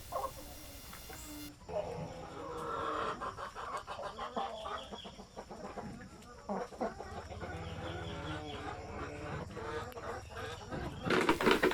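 Laying hens cluck steadily throughout a poultry house, with overlapping calls from several birds nearby, some louder squawks near the end, and faint background murmurs.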